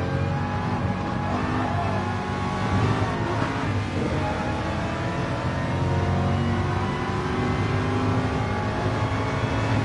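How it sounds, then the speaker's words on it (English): A Ferrari race car engine roars in Gran Turismo Sport during a racing campaign event, sustained high revving and whirring with shifting pitch, loud and continuous with no talk. "Ferrari sounds quite nice, actually."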